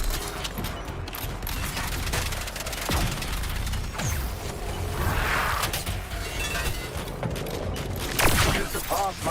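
Gunfire and heavy combat from Suicide Squad: Kill the Justice League plays as scattered loud shots and impacts over mechanical clatter, with game dialogue mixed in.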